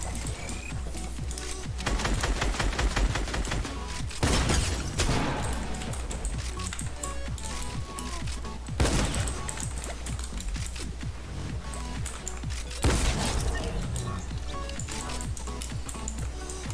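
Shotgun blasts in Fortnite, with several sharp booming shots spread across continuous busy game sound of building, clicking and action effects; no talking.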